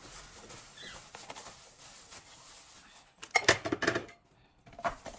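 A spoon clatters and scrapes against a bowl in a short burst of clinks while dumpling filling seasoned with salt and pepper is mixed, after a quieter stretch of soft handling.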